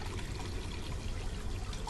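Steady running water gushes continuously and fairly loudly in the video game Black Mirror 2, a dense, even pouring wash with no pauses.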